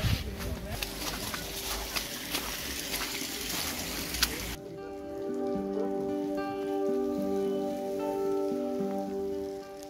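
Steady rain pattering on surfaces at night in McLeodganj, a dense broadband hiss for the first few seconds that then cuts to a quieter background with a low tonal hum; no speech.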